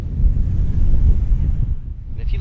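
Pacific Ocean surf and wind on a California beach make a constant low roar, with gusts buffeting the microphone throughout. The noise eases slightly near the end.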